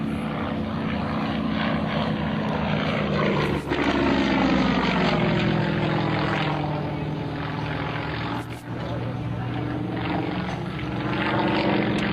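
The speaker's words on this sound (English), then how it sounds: "And now with a great look at this Yak 18, beautifully restored and maintained." A restored Yak 18 propeller plane drones steadily at an airshow, its engine note shifting in pitch as it passes overhead, loud and continuous throughout.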